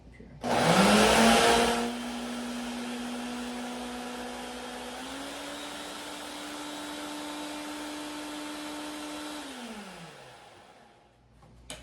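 A blender purees strawberries for homemade ice cream: the motor starts with a loud burst, then settles into a steady, high whirring drone for about eight seconds before spinning down and stopping, with no talking.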